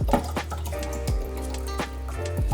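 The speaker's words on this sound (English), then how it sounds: "So I'm gonna just pour the entirety of the content in here." Descaling solution pours into the water reservoir of a Gaggia Classic Pro espresso machine, a steady close liquid stream with gurgling glugs and drips, fairly loud and alone without talk.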